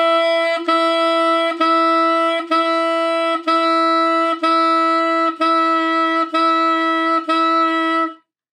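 Tenor saxophone playing one steady pitch as a string of about nine tongued notes with ta articulation, evenly spaced, bright and loud up close with short gaps between each attack.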